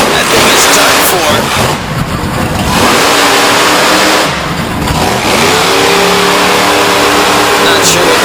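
The Badger monster truck fires up at a Brookville, Pennsylvania monster truck show, its engine roaring loud and close with repeated heavy revs and brief dips, while an announcer talks over the din.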